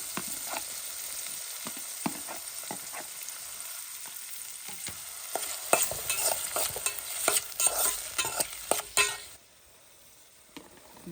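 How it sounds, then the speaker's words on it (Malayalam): Okra and tomato frying in a pan while being stirred, steady sizzling broken by repeated scraping and clattering stirs that grow busier before the sizzle drops away near the end. "പച്ചക്കറിയിലേക്ക് ഡയറക്റ്റ് ഉപ്പിട്ട് കൊടുത്തേക്കാണ് ഇനിയാണ് പാത്രത്തിലേക്ക് ഇടാൻ പോണത് തക്കാളി ചേർത്ത് കൊടുത്തു"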